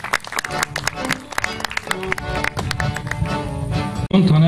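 Audience applause at a Lions Club handover ceremony, a dense patter of clapping mixed with crowd noise and talk and music, fairly loud throughout before a brief dip near the end.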